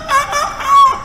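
A voice imitates a chicken, giving a short clucking, crowing-like call in a few bursts over about a second, close and fairly loud.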